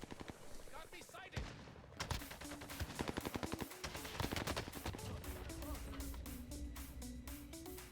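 Rapid gunfire from a first-person shooter game, dense bursts of automatic shots crackling close and loud across most of the stretch, briefly pausing near the start, with game music and effects underneath.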